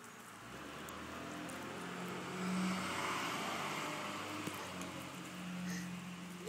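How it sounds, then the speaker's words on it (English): A bus passes on a snowy street outdoors, its engine rumble slowly building, peaking and then easing away as a steady broad roar, with no talking heard. "Bus."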